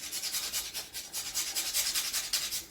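Nutmeg scraped against a grater over French toast batter for challah, a steady close rasping in quick rhythmic strokes, with no voices.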